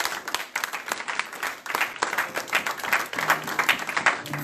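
A church congregation applauds during a Sunday worship service, a steady stretch of many hands clapping with rippling rhythm throughout, fairly close and lively, with no clear talking over it.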